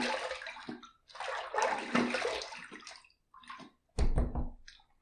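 Running tap water rinsing a razor after a shave, splashing in two bursts with a brief gap, close and steady.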